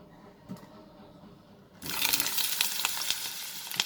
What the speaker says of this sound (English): I'm going to add the brinjal to this same oil.